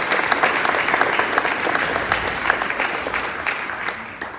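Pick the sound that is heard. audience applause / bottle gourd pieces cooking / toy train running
audience applause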